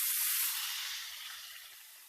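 Curry leaves hit hot coconut oil for a fish pickle, setting off a loud, close hiss of frying that fades gradually across the moment, with faint pops underneath.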